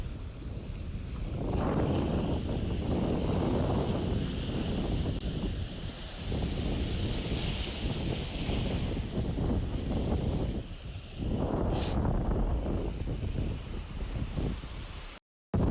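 Wind blowing by the water near Santa Marta, Colombia, a steady breathy roar buffeting the microphone in strong gusts that rise and fall. A brief high chirp cuts in near the end, and no one speaks.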